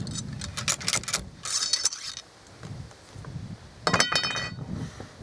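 A ramrod drives a ball down a flintlock rifle barrel, producing a series of metallic clinks, scrapes and rattles in irregular bursts, with a sharper cluster of taps near the end.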